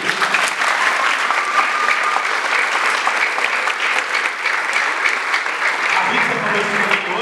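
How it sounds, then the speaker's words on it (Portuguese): A church congregation claps steadily at a Corpus Christi mass, dense sustained applause filling the room, with a few voices mixed in near the end. "Uma salva de palmas de novo, né?"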